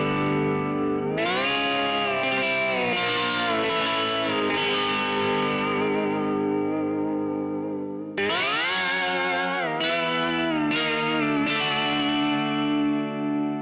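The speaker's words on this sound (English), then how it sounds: "What's this scorching sound?" Virtual steel guitar played through an iOS app with a scorching distortion effect plus chorus, echo and reverb, giving sustained gliding notes in two phrases, loud and alone with no talking.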